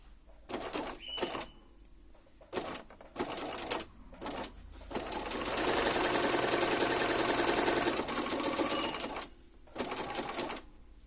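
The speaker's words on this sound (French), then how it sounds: "je pique sur la hauteur de ma couture" A sewing machine topstitches a pocket along the height of a seam, running in short bursts and then in one sustained stretch of several seconds, steady and close, with no talk.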